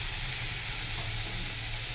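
Boiled and washed dried fish sizzling in hot oil in a home kitchen, a continuous loud bright crackle and hiss with a low hum beneath, no voices.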